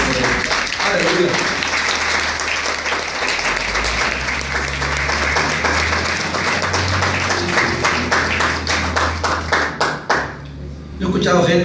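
A church congregation bursts into applause, many hands clapping steadily and loudly with some rhythmic individual claps. Voices call out over the clapping before it thins near the end.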